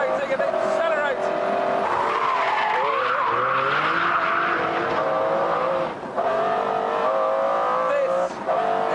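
A McLaren supercar engine accelerating hard, a loud continuous rising roar with squealing tyres, close and sustained through a few gear changes, with someone talking over it.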